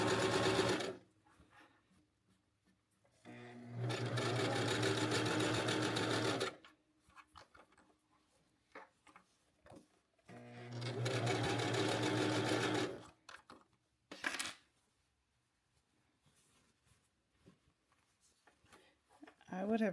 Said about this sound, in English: I'm already sewing